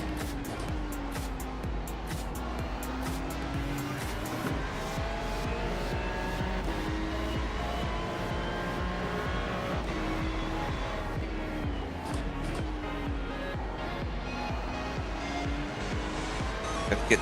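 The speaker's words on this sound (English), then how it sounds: "Very noisy Porsche behind you." A loud Porsche race car roars in iRacing at the Bathurst 12 Hour, engine droning steadily with rising and falling revs and gear changes, close and continuous for the whole stretch.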